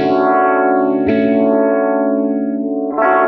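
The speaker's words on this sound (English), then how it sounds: "the univibe, and this is an effect that's a mix of chorus, tremolo, rotary, and phaser." Electric guitar through the univibe effect of a NuX Cerberus multi-effects pedal, a chorus, tremolo, rotary and phaser blend, with sustained chords swirling in a slow sweeping wobble, loud and alone, restruck once midway and again near the end.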